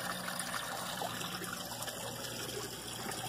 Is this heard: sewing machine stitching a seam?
no